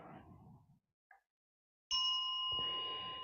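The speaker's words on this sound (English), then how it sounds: "The bell sound" A single bright bell strike during a Buddhist Amitabha session rings out and sustains with a clear, steady tone after a moment of near silence and faint speech at the start.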